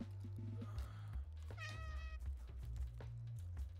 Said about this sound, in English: The meowing, pathetic.